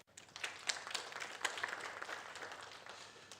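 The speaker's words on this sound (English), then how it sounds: "A hand of applause." An audience at an annual general meeting gives soft, distant applause. Quiet claps patter and gradually taper off over a few seconds.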